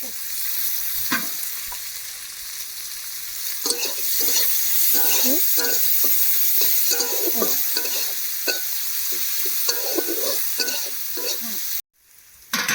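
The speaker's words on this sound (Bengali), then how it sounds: "দিয়ে দিচ্ছি প্রথমে একটু 5 ফোড়ন আর পেঁয়াজ" Panch phoron and onions frying in oil for a village-style fish curry with taro and potato, a steady loud sizzle with scattered crackles and spoon scrapes throughout, dropping out abruptly near the end.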